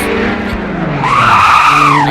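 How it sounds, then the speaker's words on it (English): Tires squeal in a sustained, loud skid as a car drifts in the Roblox game Driving Empire, the engine tone rising through the slide. "I can literally drift for days now, bro."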